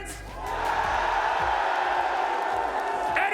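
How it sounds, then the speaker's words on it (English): A large indoor esports arena crowd roars loudly and continuously at an Overwatch 2 grand final, a sustained mix of yelling, booing and cheering that swells after a quieter start. "It's a lot of booing, a lot of screaming on the other side."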